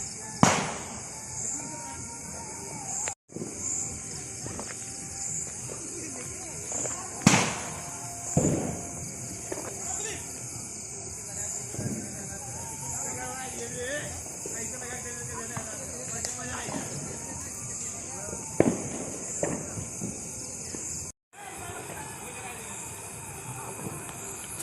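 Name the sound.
firecrackers bursting on road during Diwali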